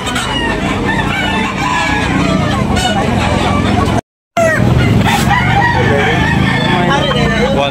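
Roosters crow repeatedly amid a busy backyard chicken sale in Tabunok, Talisay, Cebu, with clucking fowl all around, someone talking over the flock, and traffic noise in the background.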